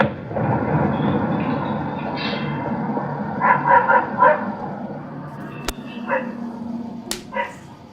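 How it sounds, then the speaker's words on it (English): A dog barks outdoors at night, a few sharp yips and woofs in a short cluster mid-clip, moderately distant, over a low rumbling background with faint voices and a couple of sudden cracks. "The dog started barking."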